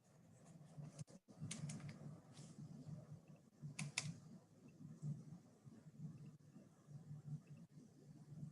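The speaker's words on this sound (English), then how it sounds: "Still here typing and writing." Steady computer keyboard typing with clustered key clicks, close and continuous, with a few sharper isolated taps and no talking.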